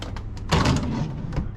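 A deep kitchen drawer in a 2004 Coachmen Mirada 310 DS motorhome slides open with a smooth rolling rumble lasting about a second, close by, after a few faint clicks.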